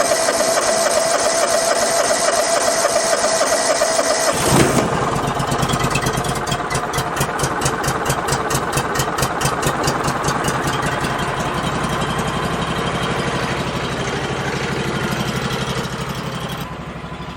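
A sawmill's engine cranks over and catches after a few seconds, then runs loud and close in a steady, rapid chugging idle that continues to the end.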